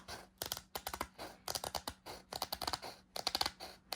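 Crisp, close snipping of scissors cutting through paper in short uneven bursts, with brief pauses between cuts.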